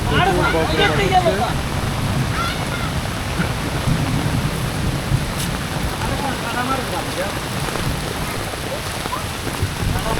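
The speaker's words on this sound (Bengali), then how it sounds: "আসলে অনেক বজ্রপাত শুরু হয়ে গেছে" Steady rain pours down during a thunderstorm in Daganbhuiyan, Bangladesh, with a constant broadband hiss, while people talk intermittently over it; no distinct thunder rumble stands out.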